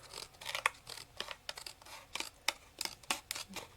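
Scissors trimming a small piece off a paper card, a series of crisp, close snips, about a dozen sharp cuts in an uneven rhythm, quiet and with no talking.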